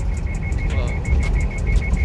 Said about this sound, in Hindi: ये इसकी बीप होती है, इग्निशन की वायरिंग का फॉल्ट है।